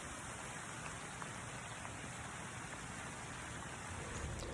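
Steady rain falls around a deer-hunting stand in warm weather, a dense even hiss of drops close by, continuous and unbroken with no voices.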